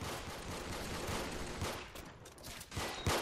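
Rapid gunfire is aimed at the player in the shooter game Arsenal, a dense burst of overlapping shots that swells and fades with a final louder volley.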